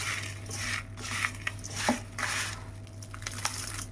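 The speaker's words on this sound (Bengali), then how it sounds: "বন্ধুরা আপনারা শব্দ শুনে বুঝতে পারছেন যে কতটা মচমুচে হয়েছে।" Crunching of a crispy homemade fried snack of rice, lentils and peanuts, close and dry, with irregular crackly bursts and scattered crisp crackles over about four seconds, alone without talk.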